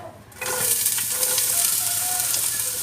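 Sliced onions dropped into hot oil in a pan for egg bread chilli. After a brief quiet moment, a loud, steady sizzle and hiss erupts close by and continues without a break.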